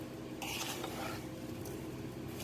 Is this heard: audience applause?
no